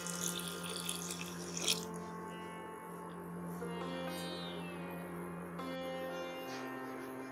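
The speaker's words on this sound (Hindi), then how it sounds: "पानी डाल देंगे" Water poured into a pressure cooker holding washed black masoor lentils on a gas stove, a steady splashing stream lasting several seconds with a brief louder splash near the start, heard alone in a kitchen.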